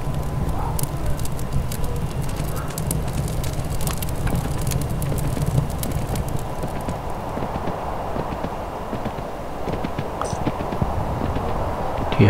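Steady hoof clip-clops from a horse in the video game Kingdom, moderately close, over a crackling background with no talking.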